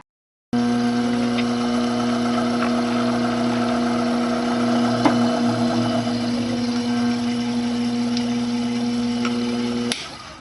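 A watchmaker's lathe hums with a steady tonal motor whine as a reamer with cutting fluid works through a hole, running evenly at close range before cutting off abruptly near the end.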